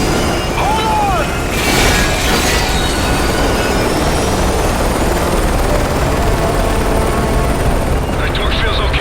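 A helicopter in the video game Modern Warfare 3 drones with a loud, steady, dense rotor and engine roar that fills the whole scene, with a voice briefly heard over it.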